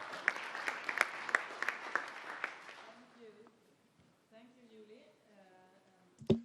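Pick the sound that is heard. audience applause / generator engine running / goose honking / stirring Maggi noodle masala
audience applause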